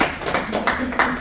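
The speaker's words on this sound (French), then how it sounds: "Applaudissez s'il vous plaît." Scattered applause from an audience at a book launch, a few loose claps in uneven rhythm, fairly close, in a short burst.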